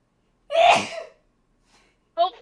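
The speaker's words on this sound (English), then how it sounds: "I'm gonna sneeze." One loud, close sneeze bursts out and fades, followed after a short silence by a brief spoken word.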